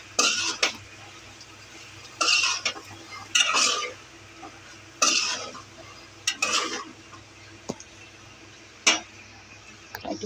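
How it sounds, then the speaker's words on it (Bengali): A spatula scrapes and clinks against a pan while snake gourd and egg fry is stirred, in about seven short bursts separated by quiet pauses over a faint sizzle. "এখন একটু নাড়বো।"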